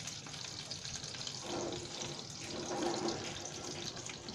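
Stuffed chillies sizzling and splattering in hot oil under a lid, a steady, broadband hiss with crackling swells, moderately loud and continuous throughout.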